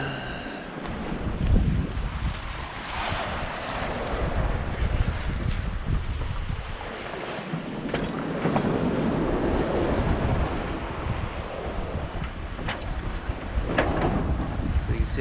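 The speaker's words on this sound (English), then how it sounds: "See how the boat yaws in the waves." Ocean waves sloshing and surging against a sailing boat's hull amid steady wind roar, loud and continuous, with rhythmic swells rising and falling; open-ocean passage from Hawaii to Canada.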